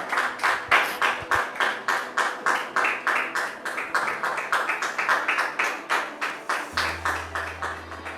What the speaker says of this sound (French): M. Germain Onokpo et sa fille Samira Kwadjo, que nous recevons sous vos applaudissements